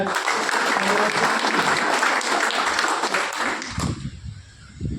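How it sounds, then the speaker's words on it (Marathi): Loud applause from an audience honoring Dr. Malaji Kadam at an association event, dense clapping for about four seconds before cutting off, leaving faint low rumble. "डॉक्टर मालाजी कदम सरांच्यासाठी एकदा जोरदार टाळ्या"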